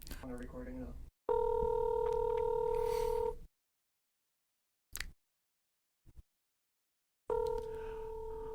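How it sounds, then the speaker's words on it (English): An outgoing phone call rings out in repeated electronic tones, two long purring rings separated by silence with a few brief clicks, while a voice is briefly heard at the start. "This is the first time we're taking a live phone call."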